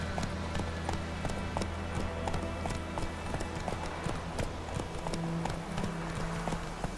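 A horse's hooves gallop in The Witcher 3, a steady, loud clip-clop rhythm that runs the whole time over a constant low rumble of game ambience and music.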